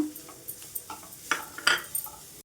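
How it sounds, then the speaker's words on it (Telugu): Grated bottle gourd being stirred and fried dry in a pan, with a series of spoon scrapes and metallic clinks against the pan at an irregular pace, close and fairly quiet, with no voice over it. "డ్రై అయ్యేంత వరకు కలిపేసుకోవాలి ఈ విధంగా"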